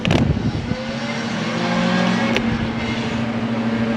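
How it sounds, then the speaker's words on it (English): Race car passing nearby outside a garage, a loud engine drone with a steady tonal hum that holds for several seconds after a sharp clatter at the start. "Another race car."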